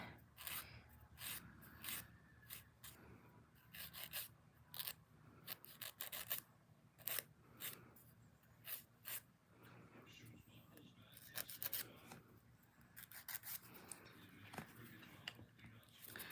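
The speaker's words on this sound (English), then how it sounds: "Filing my nails gives me like the heebie-jeebies." Fingernails being filed with a nail file, heard as close, uneven bursts of dry rasping strokes with short pauses between them.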